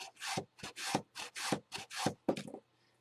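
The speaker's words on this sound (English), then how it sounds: "I'm sanding this, get that flat edge" Repeated rough rubbing strokes of sandpaper on a wood edge, about eight close, loud back-and-forth passes in a steady rhythm.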